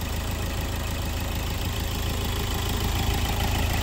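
A 2018 Hyundai Verna SX (O) with a 1.6 CRDi diesel engine idling, a steady, even rumble with faint knocking that holds at the same level throughout, heard alone with no talking.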